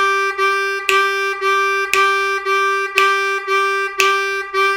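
A C harmonica repeats one note in a straight, even eighth-note rhythm, about two evenly spaced articulations per beat, with slightly stronger accents once per second; close, loud and alone.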